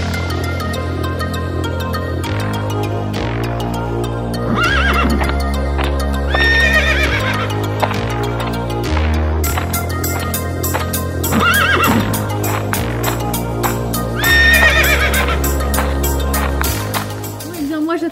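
Ponies whinnying several times in a stable over steady background music, with hooves clip-clopping underneath and a voice speaking.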